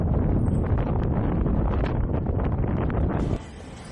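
A strong, cold wind outdoors in Japan at about 5 degrees roars loudly and steadily across the microphone, then drops abruptly to a softer hiss near the end.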